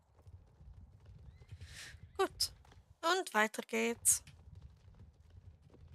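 Horse hooves clip-clopping faintly in an online video game, a soft repeating patter running at low level beneath a person talking in the middle.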